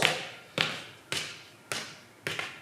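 Five evenly spaced knocks, sharp and fairly close, each followed by a short decaying ring during a theatrical reading of a gothic tale, with quiet pauses between them.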